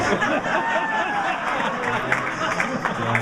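A comedy club audience claps and cheers in a steady wash of applause, with scattered chuckles and murmurs mixed into the crowd noise.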